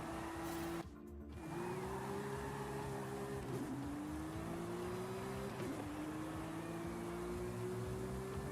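A car engine in a video game hums with a steady tone that climbs and drops through repeated gear shifts after a short break near the start, no voices present.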